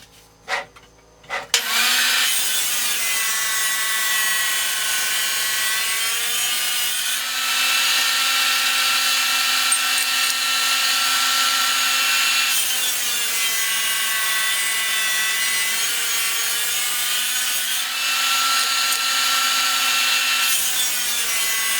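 Steady, loud power saw grinding through ceramic tiles to halve them for a diagonal shower wall, running in long continuous passes with brief pitch drops between cuts, no talking.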